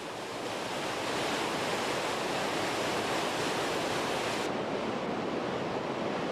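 The Rhine Falls at Neuhausen, Switzerland, plunging 23 metres, roars as a dense, powerful wash of falling water, loud and unbroken throughout with no voices.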